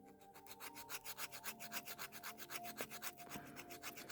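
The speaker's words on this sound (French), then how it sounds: "on va prendre sur les côtés et le limer" A file rasps back and forth along the sides of a gel nail in quick, regular strokes, close and quiet, with a couple of faint clicks partway through.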